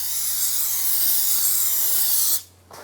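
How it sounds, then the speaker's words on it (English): A steady, loud aerosol spray of brake parts cleaner hisses onto a brake rotor for over two seconds, then cuts off abruptly, followed by a brief quieter burst. "Spray a bit of brake parts cleaner"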